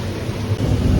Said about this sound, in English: the rain is splashing in a lot, and my Hoyas are being naturally watered by the rain